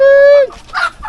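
A chicken's sharp, tonal call close by in a backyard coop of Aseel crossbreed birds, cutting off abruptly and followed by a few brief, softer squawks and clucks.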